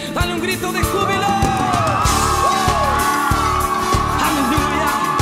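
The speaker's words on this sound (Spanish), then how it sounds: "Dale un grito de júbilo." A church congregation erupts in joyful shouting and whooping, many voices yelling and cheering together at once, loud and sustained with sharp bangs and a beating rhythm underneath.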